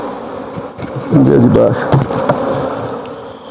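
A swarm of honey bees buzzes all around during close-up honey extraction from a hive, a dense, steady drone with louder passes near the microphone while a person speaks briefly.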